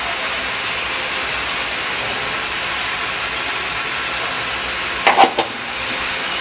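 Chicken pieces sauté in a pan for Bengali chicken kosha, giving a steady, even sizzle and hiss throughout, with a brief clatter of stirring near the end.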